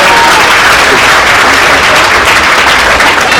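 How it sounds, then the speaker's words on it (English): Loud, dense round of applause from an audience at a political gathering with elected officials present, sustained evenly throughout as a thick wash of many hands clapping. "Let's give him a big round of applause."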